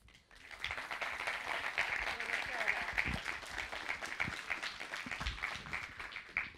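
Film festival audience applauding an actress at a screening presentation, a steady, sustained round of clapping from a fairly large room, rising quickly and holding throughout.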